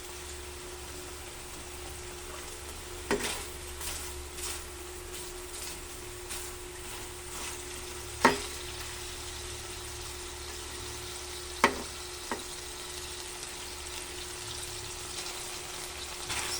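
Chicken adobo frying in oil until golden brown, a steady low sizzle throughout with a few sharp pops and clicks of utensils against the pan, no talking.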